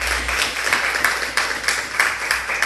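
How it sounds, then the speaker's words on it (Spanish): A church congregation claps steadily together during a Spanish-language worship service, many hands beating in an even rhythm that fills a large room. "¿Cuántos pueden darle palmas a Cristo Jesús en esta noche?"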